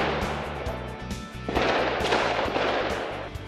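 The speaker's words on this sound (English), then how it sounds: "gunfire and explosions turn a French neighborhood into a war zone" Gunfire and explosions in a French neighborhood during a police raid on an apartment, heard as sharp repeated cracks and booms that swell louder halfway through over dense background music.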